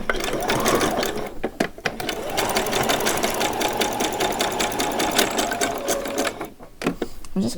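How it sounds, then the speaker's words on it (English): A sewing machine running back stitches on a skirt: rapid mechanical clattering, close and steady, briefly stopping and restarting. A voice talks over parts of it. "I'm just going to run backwards again, just a few back stitches just to hold it in place"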